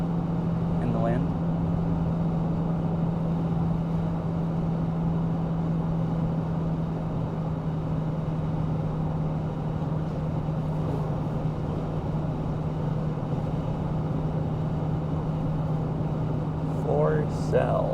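Car driving through open country past snowy mountains in North Cascades National Park, with a steady low engine and road drone plus wind buffeting that last throughout at moderate loudness and hold constant under faint speech.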